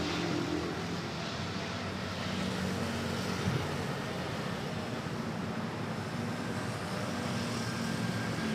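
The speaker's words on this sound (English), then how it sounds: "Si Palruda off to Hong Kong, the ex-Garuda aircraft" An ex-Garuda aircraft departing Manila Airport for Hong Kong gives off a broad, steady distant engine roar that holds at an even level throughout, with no talk over it.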